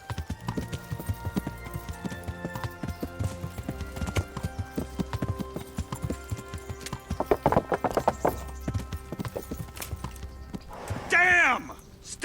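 A horse's hooves clip-clop at a steady walking rhythm in the medieval role-playing game Kingdom Come: Deliverance, close and distinct, with a whinny near the end and voices talking over it.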